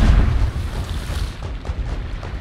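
Ship cannon fire during a naval battle in the pirate video game Sea of Thieves: a loud, deep boom opening the moment, then a rumbling decay with rough, crackling low noise trailing off over two seconds.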